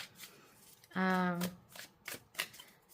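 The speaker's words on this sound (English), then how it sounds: "I have to shuffle this deck a little differently because the cards are like super slippery." A slippery tarot card deck is shuffled in a few quick soft riffles and taps, close and quiet, with a short burst of voice breaking in midway.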